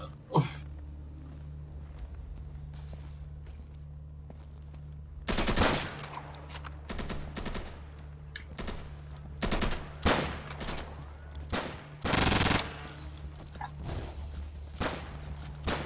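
Gunfire in the video game Insurgency: scattered shots and louder rapid bursts come at irregular intervals over a low steady background hum.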